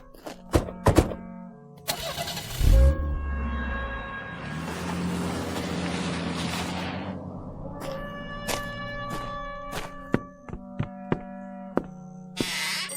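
A radio drama effect of a car engine starting with a cranking burst, then running steadily as the car drives off, with door-like thunks and knocks around it, loud and close.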